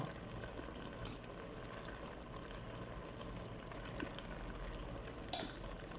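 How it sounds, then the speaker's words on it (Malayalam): Cooked rice is tipped over chicken in a pot while layering a Kozhikode-style Malabar biryani, giving a steady low sizzle and bubble with a couple of brief soft scrapes and clinks, no talking. "അതിൻ്റെ മുകളിൽ തന്നെ നമുക്ക് ഈ വെന്ത ചോറ് ഇതിലേക്ക് ഇടാം"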